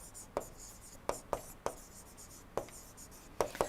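Marker or chalk strokes during an engineering lecture on engine performance, sparse sharp taps and short scratches spaced irregularly against a quiet room.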